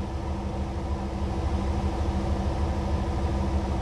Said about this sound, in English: It's the air compressor. You can hear it in the breathers on the intake